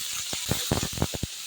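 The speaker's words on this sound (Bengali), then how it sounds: "তেলটা গরম হয়ে গিয়েছে, আমি এখন এইখানে দিয়ে দিচ্ছি পেঁয়াজ কুচি আর রসুন।" Chopped onion and crushed garlic sizzle in hot oil, a bright steady hiss with a run of sharper crackling bursts as the pieces hit the pan, close and fairly loud, no talk.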